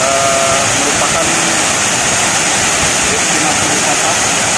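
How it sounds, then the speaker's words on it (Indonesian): Curug Bulu waterfall in Lahat, South Sumatra, gives a loud, steady, close rushing roar of falling and splashing water that fills the whole stretch without pause. "Sekarang kita lagi menikmati memericiknya air terjun Curug Bulu"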